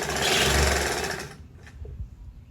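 Sewing machine stitching a georgette puff sleeve, a close, steady whir lasting just over a second before it stops, followed by faint handling clicks.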